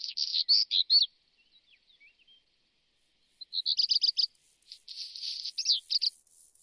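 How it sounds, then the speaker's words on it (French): Small birds sing high, quick chirping phrases in bursts during spring courtship, clear and fairly near against near silence, with a faint insect-like buzz between them. "Chez les oiseaux, le chant devient plus subtil pour séduire de nouvelles compagnes."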